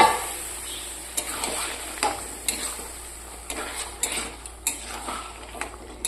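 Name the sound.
stirring and frying peas with mutton fat in a pan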